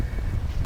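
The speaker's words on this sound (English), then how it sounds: "wind's pretty bad too" Strong gusting wind during an April snowstorm roars as a steady low rumble buffeting the microphone, continuous and fairly loud with no talking.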